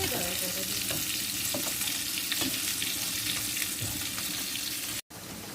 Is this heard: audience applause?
no